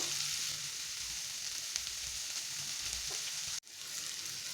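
Cauliflower with pepper powder frying in oil crackles in a steady, close sizzle with faint stirring. It cuts off abruptly near the end and then resumes softly.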